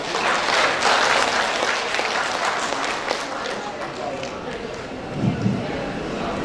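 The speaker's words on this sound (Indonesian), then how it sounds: "Yuk, tepuk tangan untuk Bapak ini" A room full of people at an Indonesian public-speaking session applauds steadily as a man is invited up to speak, the clapping dense and close before tapering off, with voices mixed in.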